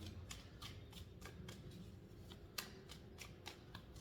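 Tarot cards are shuffled by hand in a quiet room, giving a steady run of soft, crisp riffling flicks with one slightly louder snap near the end. No voice is heard.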